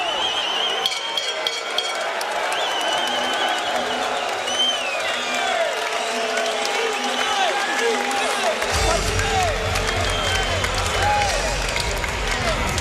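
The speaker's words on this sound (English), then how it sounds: "Crowd loving every second." Boxing crowd at the James DeGale vs Lucian Bute IBF super middleweight title fight, a steady arena roar with cheering and scattered clapping running throughout, swelling louder in the final seconds under a commentator's talk.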